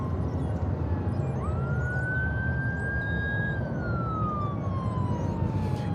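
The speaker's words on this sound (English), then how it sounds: "There's a DFW fire truck making its way over to the east side." A DFW Airport fire truck siren wails at a distance, one long steady tone that slowly rises and then falls away, over constant low airport rumble.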